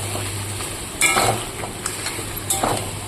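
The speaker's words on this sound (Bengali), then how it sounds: "মাংসটা আমি দিয়ে দিয়েছি কড়াইতে এবার আমি ভালো করে নেড়ে ছেড়ে দেবো" Meat frying in a kadai (wok) with a steady, close sizzle, broken by a couple of louder stirring scrapes of a spatula against the pan.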